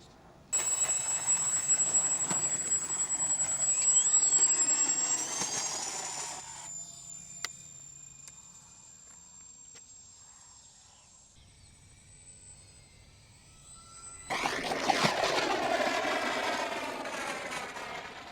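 An Avios C-130 RC model airplane flies overhead with a steady high electric whine that swells, fades away to a thin tone during a quieter stretch, then grows loud again as it passes close by.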